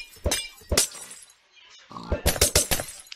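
A Minecraft potion bottle shatters in sharp glassy bursts, several quick breaking crashes in close succession with short quiet gaps between them.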